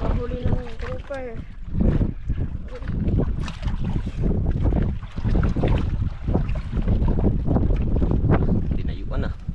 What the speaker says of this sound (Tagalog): Naghangin na naman siya.